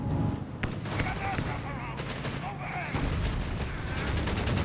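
Gunfire in a Company of Heroes 3 battle, with Afrika Korps and US Forces units, sounds as dense rapid bursts and single shots crackling throughout. Speech-like sounds and dense battle noise run under it.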